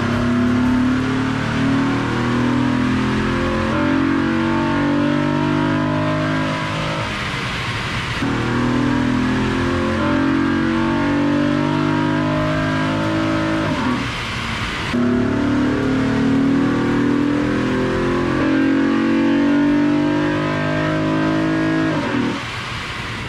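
A Honda car engine with an AEM drop-in performance air filter revs hard on a dyno, building through three long, loud full-throttle pulls of about eight seconds each, each dropping off briefly before the next begins.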